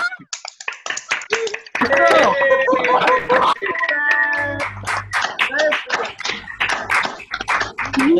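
Participants on an online video call, unmuted for a moment, clap loudly together for a birthday, with uneven overlapping claps, a few voices chatting and laughing, and bursts of digital distortion.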